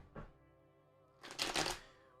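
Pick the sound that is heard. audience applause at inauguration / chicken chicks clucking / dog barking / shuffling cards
shuffling cards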